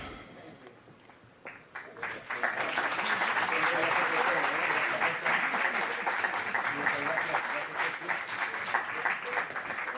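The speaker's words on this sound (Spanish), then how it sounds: "Brindamos un merecido aplauso a los integrantes del panel asesor nacional" A ceremony audience celebrating climate science honorees breaks into applause, starting quiet and then swelling into dense, sustained clapping that continues to the end.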